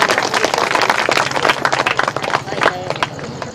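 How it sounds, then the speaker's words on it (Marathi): A crowd at an outdoor community gathering breaks into brisk, dense applause for a birthday, steady and close for a few seconds with no voices over it. "सगळेजण त्यांच्यासाठी टाळ्या वाजवूया."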